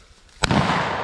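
A single sharp shotgun blast cracks out during a quail hunt, close and loud, followed by a short fading echo across open ground.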